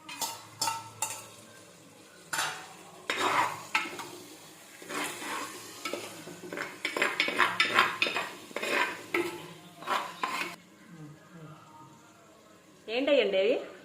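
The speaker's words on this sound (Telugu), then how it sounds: "ఇప్పుడు మనం ముందుగా తరిగి పెట్టుకున్న టమాటా ముక్కలు, పచ్చిమిరపకాయ ముక్కలు కలిపేసేస్తున్నానండి." Chopped tomato and green chilli pieces are stirred into mutton curry in a sizzling pan, with repeated scraping and clinking of a spoon against metal in bursts, under talk.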